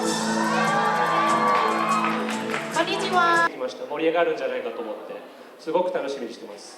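A crowd at a volleyball event in Thailand shrieks and cheers loudly and continuously for several seconds, then the noise drops into scattered excited shouts and voices.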